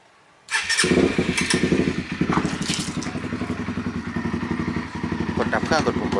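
A Honda CBR150 motorcycle engine fires up via a remote alarm after a brief silence, catching abruptly and settling into a close, clattering, rhythmic idle, with someone talking over it.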